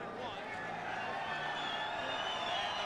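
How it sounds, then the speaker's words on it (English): Madison Square Garden's boxing crowd stands and cheers after Leland Hardy's knockout of Ike Padilla in 1989, a continuous roar of voices and clapping. Talk can be heard over the din. "And the crowd on its feet."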